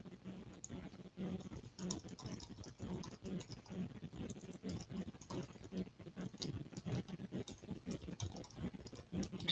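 Fingers type on a computer keyboard in quick, irregular bursts of close, soft key clicks that run steadily for several seconds with no talking.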